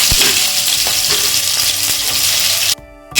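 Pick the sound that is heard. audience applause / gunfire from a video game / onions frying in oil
onions frying in oil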